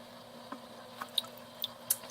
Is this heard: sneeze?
no